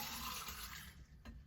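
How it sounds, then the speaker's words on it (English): A shaken whiskey cocktail is poured from the shaker into a glass at a tailgate. It makes a steady, close liquid splash and rush that fades, followed by a brief clink near the end. "just turn it over, and we are just pouring it right in"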